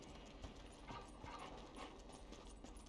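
Chop, a dog in Grand Theft Auto V, gives faint, brief yips and whimpering barks amid a quiet game background, with no talk over it.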